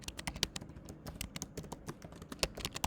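Code being typed on a computer keyboard: fast, irregular clicking keystrokes at close range, fairly quiet and continuous, with no speech.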